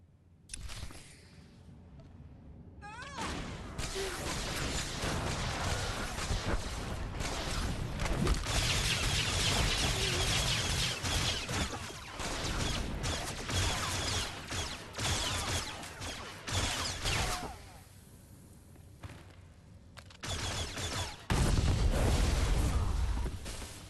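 Blaster and weapon fire during a battle in Star Wars: The Old Republic, dense crackling volleys and booms running almost continuously, loud and close, with a few brief lulls and a heavier burst near the end.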